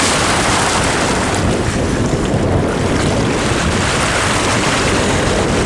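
Water laps and surges at the River Thames tide line, a loud continuous wash with wind buffeting the microphone and no pauses or talking.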